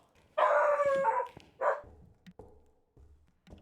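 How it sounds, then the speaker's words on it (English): A dog barks indoors in a short burst: one long loud bark, then a second, followed by a few faint yips and thumps. "Sorry for the barking."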